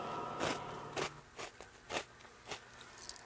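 Cap'n Crunch Christmas edition cereal crunched in the mouth, six separate crisp crunching bites spaced about half a second apart, close and fairly quiet, no talking.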